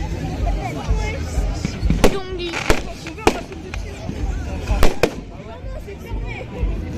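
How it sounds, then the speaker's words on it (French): Small firecrackers pop in sharp, scattered bursts at an outdoor August 1st fireworks celebration, several close cracks cutting through a steady crowd murmur while people talk nearby. "Oh, encore des petits pétards."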